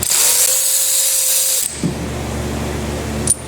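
A ratchet with a 9/16 spark plug socket works a spark plug out of a 2024 Chevy Trax engine, a close, loud buzzing ratchet run followed by brief metallic clicks and clanks.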